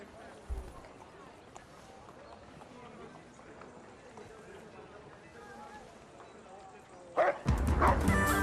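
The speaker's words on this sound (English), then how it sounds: "The dog was rude." A dog in Kingdom Come: Deliverance 2 barks in a sharp burst near the end, after quiet game ambience with a brief thump early on.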